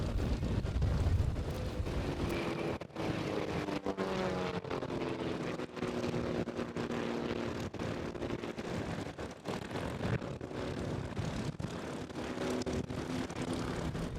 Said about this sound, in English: here comes a high-speed photo pass for you, ladies and gentlemen. This is a banana pass all the way down the flight line